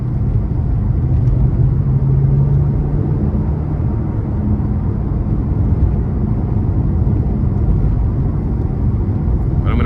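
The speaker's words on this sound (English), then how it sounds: "I'm gonna try to give it a good pull getting on the interstate here" A 2014 Maserati Ghibli S Q4 pulls hard onto an interstate in sport and manual mode, its engine a loud steady rumbling drone heard from inside the cabin, without speech.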